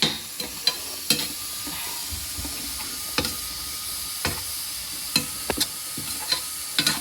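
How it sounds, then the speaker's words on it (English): A steady soft hiss of steam as urad dal mixture cooks for kozhukattai runs throughout, broken by scattered light clicks and taps from the pot. "you can hear the urad dal mixture being steamed"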